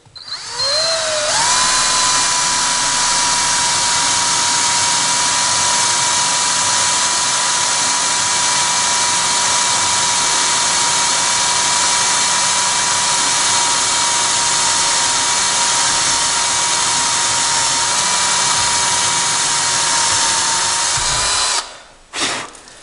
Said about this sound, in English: I drilled that really slow